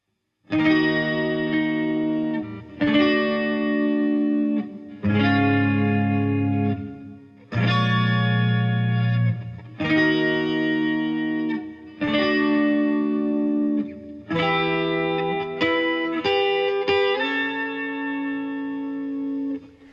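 A slow electric guitar plays the sustained intro chords of a song with effects and reverb, each chord ringing for a couple of seconds before changing, loud and alone.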